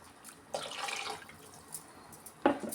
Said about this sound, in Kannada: ಎರಡು ಮೂರು ಗ್ಲಾಸು ಅಕ್ಕಿಗೆ ಸ್ವಲ್ಪ ಜಾಸ್ತಿ ತೊಳೆದು ನೀರು ಸೇರಿಸ್ತಾ ಇದ್ದೀನಿ